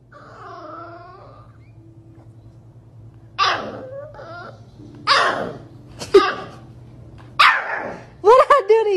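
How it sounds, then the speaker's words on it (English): A dog growls low and then lets out several loud, sharp barks in quick bursts, close by, with a person's voice heard between them. "Why are you growling at me?"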